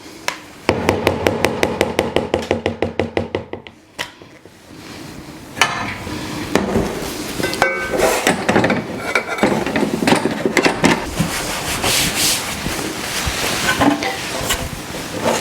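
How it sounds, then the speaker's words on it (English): Ganache being scraped out of a blender with a spatula while making mocha macarons: rapid rhythmic tapping at first, then a pause and irregular scraping and clinking of the spatula against the jar, close and fairly loud. "Cleaning blender."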